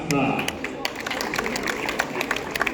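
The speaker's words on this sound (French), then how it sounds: "les applaudissements pour Tadej Adam" Spectators applaud an elite men's half marathon runner at his introduction, with scattered hand claps over a steady crowd murmur and a voice speaking throughout.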